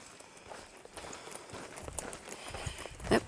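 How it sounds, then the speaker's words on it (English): Cows walk along a narrow hiking trail, their hooves giving irregular soft clopping steps close by over a rustling outdoor background. "cows walking on such a narrow path"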